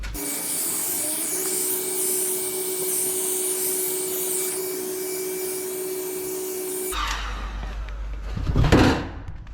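A heat gun blows a steady whirring drone for about seven seconds while warming a plastic wheel arch on a Ford Ranger, then cuts off and a brief rustle of handling follows.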